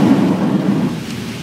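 Rain falling at Uluru after a night of rain, a loud, continuous rushing wash with deep rumbling low tones, steady and close throughout without breaks.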